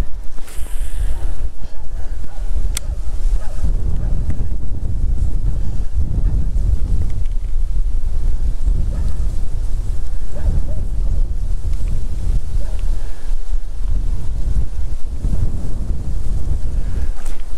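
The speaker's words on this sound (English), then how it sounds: "You can clearly see how much that wind has been blasting right along this channel here." Strong wind blasts along a lake channel past a fishing boat, producing a loud, constant low rumble and buffeting against the microphone, with waves and water noise mixed underneath and no pauses throughout.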